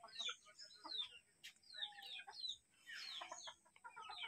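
Domestic chickens clucking and chattering at close range in a home poultry setup, several birds calling in overlapping bursts that stay fairly quiet throughout.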